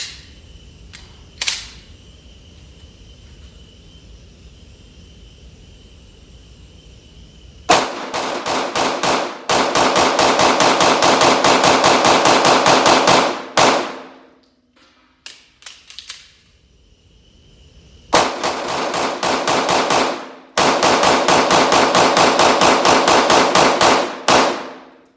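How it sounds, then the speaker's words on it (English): An FN 509 Tactical pistol with a PMM compensator fires rapidly through a box of ammo in two long, loud strings of sharp, closely spaced shots. A few isolated shots and brief handling clanks come between the strings, and no one talks. "Show you how fast this thing will go through a box of ammo."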